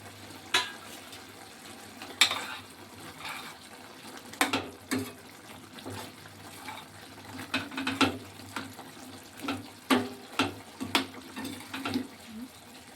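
Water poured into a simmering mushroom gravy in a pan, giving soft sizzling and bubbling broken by scattered clinks and scrapes of stirring, fairly quiet and close.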